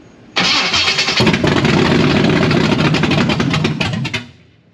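A Blueprint 540 big block V8 in a C10 truck cranks and fires, then runs loud and rough with a steady rumbling idle before cutting off abruptly.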